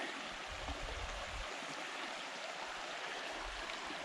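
Water of Pond Brook runs over a trail crossing on the Cohos Trail as a steady, soft rushing stream with gentle gurgles, continuous and fairly close, with no voices.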